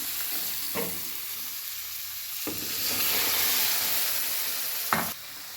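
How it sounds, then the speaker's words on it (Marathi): Masala frying in oil in a pan for a village-style chicken dish, a continuous close sizzle and hiss with a few distinct spoon scrapes and knocks as it is stirred. "पहिल्यांदा सगळा मसाला भाजून घ्यायचा"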